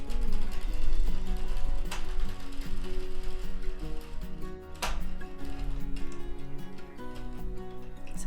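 A hand-cranked knitting machine keeps turning after the yarn is cut until the knitted work drops off, producing a steady close mechanical whirring and clicking with a few sharper clacks along the way.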